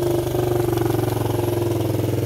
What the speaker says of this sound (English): So I got it running, idling.